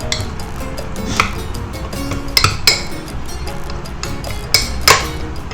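A spoon stirs a honey, onion and garlic mixture in a bowl, making irregular close clinks and scrapes against the bowl, with a few sharper knocks, and no speech.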